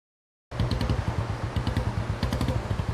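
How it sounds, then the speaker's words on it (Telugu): A motorcycle engine runs close and loud after a brief silence, with a steady throbbing putter while the bike is ridden. "ఆపు ఆపు, బైక్ ఆపు."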